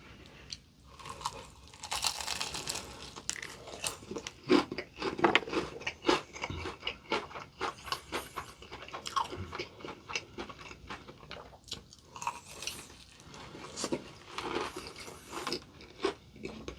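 Crispy fried chicken with ketchup-style seasoning and potato mayo is eaten at close range, with many sharp crunching bites followed by continuous chewing and crackling that sounds loud and crisp throughout a mukbang meal.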